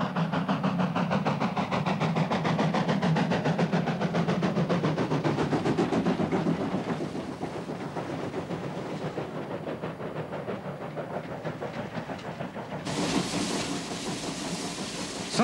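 A South African steam train runs past with rhythmic chuffing and clickety-clack of wagons on the rails, steady and fairly loud, with a hiss of steam rising near the end.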